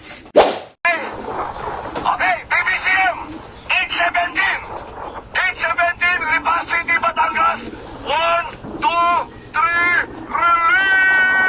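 Many birds call loudly and repeatedly at close range, overlapping with one another, while people talk nearby throughout.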